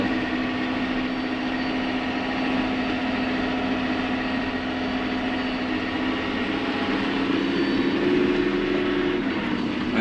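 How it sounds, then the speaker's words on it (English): A farm tractor in auto transmission mode pulls a running sprayer across a field, its engine droning steadily and loud at close range, with a constant tonal hum and slight rise in pitch near the end. "I just have this tractor set in auto."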